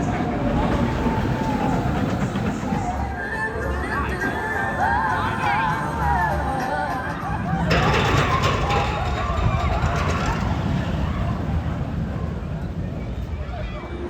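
Steady rumble of the Mine Train roller coaster at Six Flags Great Adventure rolling along its track, with a louder surge partway through and a background babble of riders' voices.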